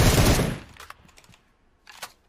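Bursts of gunfire in PUBG Mobile: a loud rapid volley opens, then scattered fainter shots and a short burst near the end.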